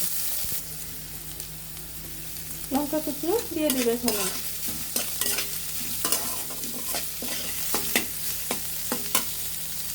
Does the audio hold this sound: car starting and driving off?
no